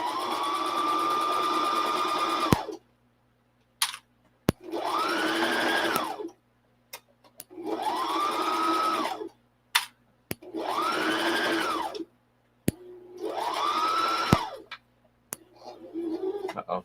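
A sewing machine runs through a back stitch in five separate bursts of roughly two seconds each, a steady whirring hum that stops and restarts with brief clicks and short quiet gaps between runs.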